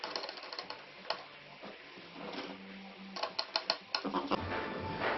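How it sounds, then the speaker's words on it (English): A small screwdriver fastens an M.2 drive during a Ryzen 7 7700X PC build, quiet ratcheting clicks and a rapid run of ticks near the end. "And you just use a smaller screwdriver."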